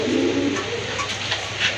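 Fancy pigeon kept for sale coos nearby, a short, close, low throaty coo with a few soft chirpy notes, with no talk over it.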